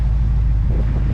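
The old Ford F100 pickup's engine runs steadily after revival, a close, low rumbling drone that holds level throughout this short stretch with no talking.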